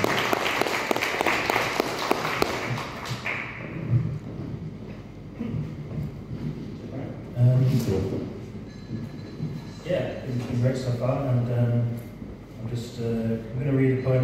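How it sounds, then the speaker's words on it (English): An audience at a poetry reading gives a few seconds of applause, which fades as a speaker's voice takes over for the rest. "Big round of applause, please."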